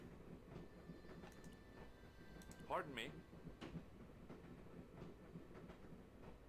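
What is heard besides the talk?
train carriage interior from the video game Broken Sword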